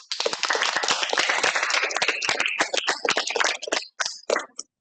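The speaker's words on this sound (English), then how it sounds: "So maybe with a bit of an applause" Seminar participants applaud to welcome a guest speaker, a small group clapping briskly and fairly close, thinning into a few scattered claps before stopping.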